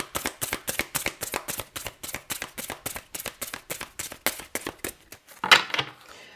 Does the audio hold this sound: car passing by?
no